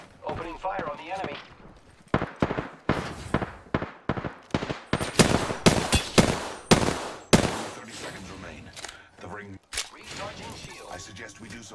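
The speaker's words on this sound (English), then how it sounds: "I am taking fire, friends. Opening fire on the enemy." Rapid bursts of gunfire from the video game Apex Legends, a dense string of loud shots and impacts crowding the middle stretch, with an in-game voice speaking at the start and end.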